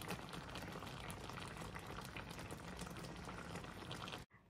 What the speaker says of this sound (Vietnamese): kho xong nồi giò heo kho chung với nước tương và rau cải